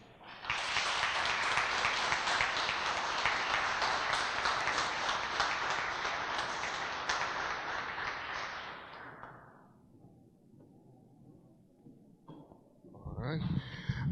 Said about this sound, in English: I think we should give them a round of applause again.